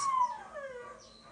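A dog howls in a long, falling wail that ends in a whimper. The sound is fairly quiet and close, with no talk over it.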